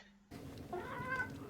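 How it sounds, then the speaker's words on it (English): Two pet cats meow in a quiet indoor room, a few short, faint, rising meows close together after a moment of near silence, with no talking. "the cats were both acting up while we were listening to the questions"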